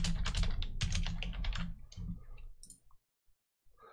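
Rapid typing on a computer keyboard, a close, dense clatter of keystrokes that thins out and stops, leaving a few isolated taps at the end.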